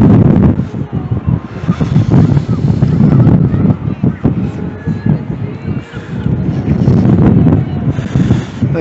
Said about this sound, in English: I think the rain has stopped, but it's still a bit windy